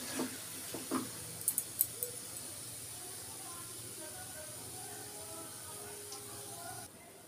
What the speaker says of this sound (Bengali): চলো সমস্ত বড়াগুলো ভেজে নিয়ে আমি আবার আসছি